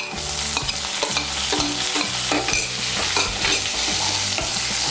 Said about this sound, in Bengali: টমেটো কুচিটাকে তেলের সঙ্গে মিশিয়ে নেব